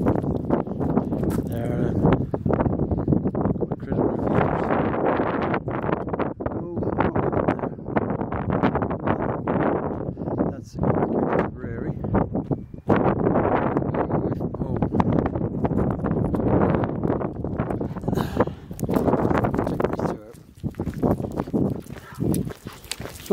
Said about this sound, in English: I do hope you can hear me because it's rather windy.